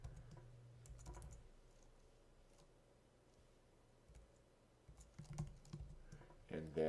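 Keys tapped on a computer keyboard while entering a formula in a spreadsheet, a few soft clicks early and a quicker burst of taps near the end, faint and close over quiet room tone.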